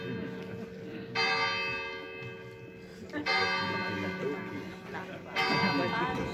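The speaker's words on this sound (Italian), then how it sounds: "Siamo fortunati a vivere in dei borghi in cui si sente il rintocco delle campane" Church bells in a small Italian village ring in repeated bursts of sustained tolling, fairly near and loud, with people talking beneath and between the strokes.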